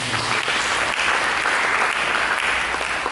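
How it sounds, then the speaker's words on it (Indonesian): A church congregation applauds during a sermon, a steady, full wash of clapping at even loudness throughout, with no talk over it. "Mari kita berikan tepuk tangan."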